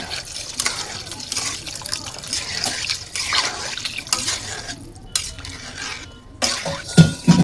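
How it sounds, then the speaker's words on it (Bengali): Water is poured into a cooking pot of milk, chilies and spices for chicken tehari. A splashing, sizzling liquid rush is followed by uneven stirring clatter and a few louder knocks near the end. "পানি দিয়ে দিলাম"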